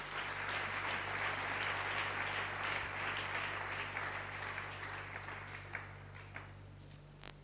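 A church congregation applauding together, dense, sustained clapping from a large crowd that fades somewhat toward the end, leaving a few scattered claps.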